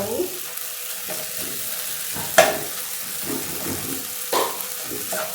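Well-cooked tomatoes are mashed in a frying pan, giving a continuous soft sizzle broken by rhythmic squelching presses and two sharper knocks of the utensil against the pan.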